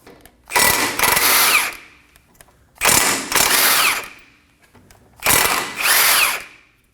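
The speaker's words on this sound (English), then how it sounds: "Using a 17mm socket, we're gonna remove both of these nuts and this bolt." A power impact tool with a 17mm socket removes nuts and a bolt during front CV axle replacement on a 2016-2020 Kia Sorento 2.4L, three loud whirring bursts each about a second long with short gaps between.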